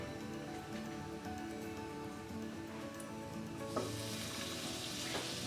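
Butter is added to hot oil in a small frying pan for tempering dal makhani, producing a quiet, continuous sizzle with faint crackles that swells toward the end, with no talk.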